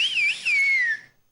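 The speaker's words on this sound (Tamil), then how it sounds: "இவங்க பண்ணது எப்படி இருந்ததுன்னு ஒரு விசில்ல காட்ட." A person whistles on a TV show set, giving one loud, clear sliding whistle that rises, dips and then holds a long falling note, about a second in total with no talk over it.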